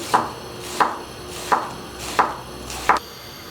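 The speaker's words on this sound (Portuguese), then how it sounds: "Corta assim, tirinhas." A knife cuts two onions into thin julienne strips on a board. Five crisp, evenly spaced chops are heard, with no talking.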